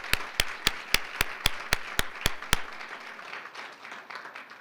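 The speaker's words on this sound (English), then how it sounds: "Let's please give them another round of applause for everything that they've done for children." A run of about ten sharp, evenly spaced hand claps rings out at a retirement luncheon honoring retiring school district staff, then fades into a softer, scattered patter of applause from the room.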